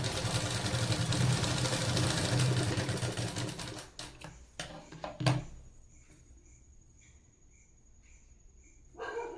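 A sewing machine stitching a blouse with four tucks runs in a dense, steady whirring burst for about four seconds, then stops, leaving a few sharp clicks and a faint high tone.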